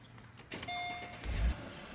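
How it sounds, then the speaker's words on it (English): A Mercedes SL R230 engine starts with a brief crank and a low rumbling catch, heard close and moderately loud over a faint background hum. "Next, start your engine."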